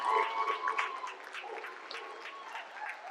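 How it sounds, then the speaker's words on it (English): Steady applause from a late-night show audience for a party's deputy leader, soft and somewhat distant, a dense patter of many hands that holds evenly throughout. "Give him a round of applause"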